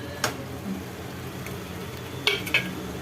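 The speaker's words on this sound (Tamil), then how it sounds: "இப்போ இதையும் நல்லா மிக்ஸ் பண்ணிக்கலாம்." Sliced ivy gourd stirred into masala paste in a pan, with faint sizzling under a few sharp spoon scrapes and taps against the metal.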